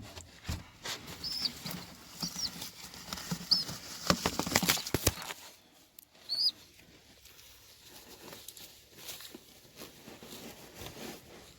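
A tumbler pigeon takes flight, its wings flapping in a rapid burst of clattering beats up close, followed by quieter rustling and scattered fluttering.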